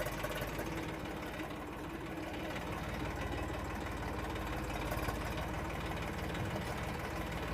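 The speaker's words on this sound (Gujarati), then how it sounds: "તો કરી હું ટ્રેક્ટર નો રિવર્સ મારતો" A tractor engine runs in reverse, giving a steady, dense mechanical drone with a fast knocking pulse that holds level and close for the whole stretch, with no talk over it.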